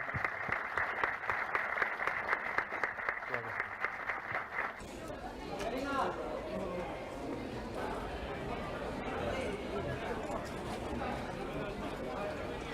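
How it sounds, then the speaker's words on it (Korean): Audience clapping at a film festival screening Q&A, brisk and dense for the first few seconds, then giving way to a murmur of chatter and movement from the crowd as the clapping fades. "이 두 분께 건투를 비는 큰 박수로 오늘 GV 맺도록 하겠습니다"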